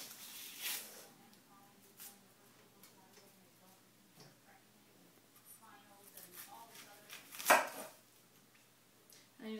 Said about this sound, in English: Okay, so now we are going to slice the onions.